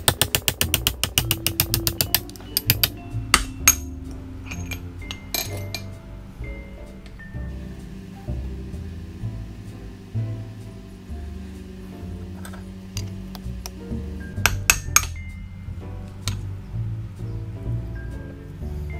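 Metal tapping and clinking as bearings are knocked out of a John Deere D170 mower deck spindle using a ratchet extension, a quick run of light strikes followed by scattered clinks, faint and close.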